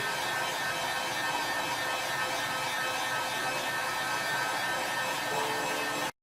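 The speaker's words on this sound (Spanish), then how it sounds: "me va a ayudar a mí por medio del aire caliente a secar el papel" Steady, loud whooshing hiss of a hot air tool running at high heat to dry paper, unbroken and close until it cuts off abruptly at the end.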